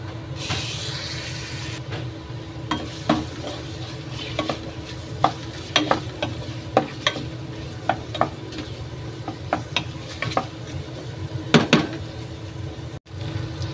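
Boiled beef being sautéed with onion and garlic in a pan, a steady sizzle under repeated sharp scrapes and stirring clinks spaced every second or so, close and fairly loud.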